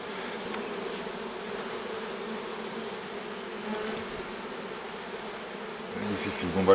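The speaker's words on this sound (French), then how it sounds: "un joli petit essaim" A small swarm of bees buzzes steadily around a Japanese-style hive, a dense close hum of many wings that holds even throughout, with a slight rise and a rustling handling sound near the end.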